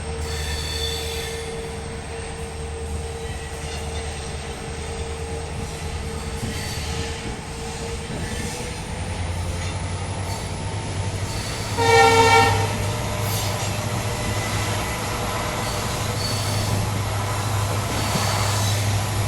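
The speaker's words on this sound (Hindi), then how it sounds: "तो आप लोगों को कैसी लगती है WDP-4D की आवाज़, या किसी भी EMD लोकोमोटिव की आवाज़ कैसी लगती है" WDP-4D EMD diesel locomotive hauling the Rajasthan Sampark Kranti Express, a steady close rumble and rail clatter throughout, with a brief louder burst of noise around the middle and the engine note rising as the train picks up speed.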